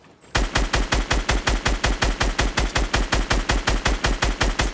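Rapid automatic gunfire from the video game Fortnite bursts in after a brief lull and hammers on in a steady, loud rhythm of about twenty shots, with nothing else heard over it.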